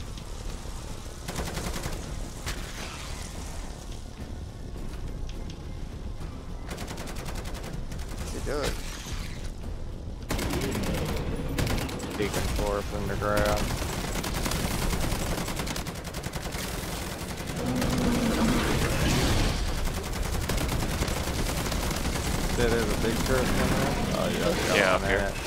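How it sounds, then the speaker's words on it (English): Automated turrets in the Call of Duty MW3 Zombies video game fire continuous bursts of rapid gunfire, mixed with mechanical clatter and frequent excited player voices talking over the shooting. "My turrets are going crazy up here"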